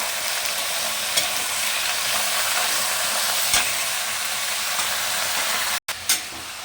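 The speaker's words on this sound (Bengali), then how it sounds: "এখন আমি নাড়াচাড়া করবো" Spices with cumin powder and Kashmiri chilli stirred as they fry in a pan, a steady close sizzle with light scraping strokes throughout and a brief break near the end.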